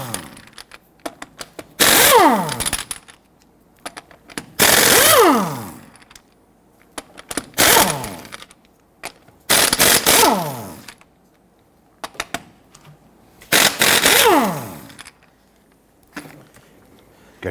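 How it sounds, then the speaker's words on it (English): An impact wrench with a 19mm socket loosens the lug nuts on a 2006-2010 Hummer H3 front wheel, firing five loud, close hammering bursts of about a second each, separated by short quiet gaps. "Using a 19mm socket, I'm going to go ahead and loosen and remove our lug nuts."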